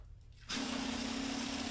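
An old iron-ore mining machine in the Grube Fortuna mine starts up on compressed air and water, a sudden loud, steady hiss and rushing with a constant tone, alone and close.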